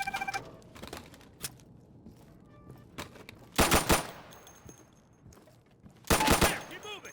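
Close-quarters gunfire in the Insurgency video game's room-clearing training: two loud dense bursts of shots stand out, with sparser single shots and scattered clatter between them.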